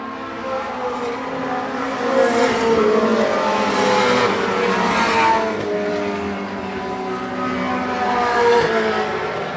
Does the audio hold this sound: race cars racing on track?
yes